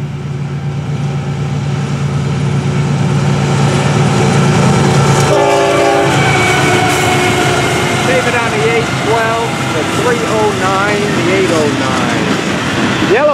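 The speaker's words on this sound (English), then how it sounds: "Something wrong with that horn." A FEC101 freight train's horn, noted as faulty, sounds loud and sustained with wavering tones partway through, over the steady rumble and clatter of the passing train and its locomotives.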